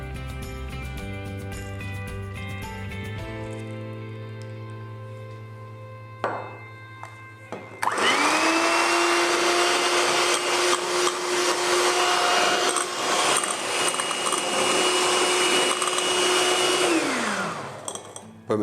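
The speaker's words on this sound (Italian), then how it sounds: "Andiamo a frullare pian pianino. Iniziamo col latte." An electric hand mixer whirs steadily at high speed for about ten seconds, whisking milk into egg yolks for a chocolate colomba batter, then spins down; quieter kitchen clatter comes first.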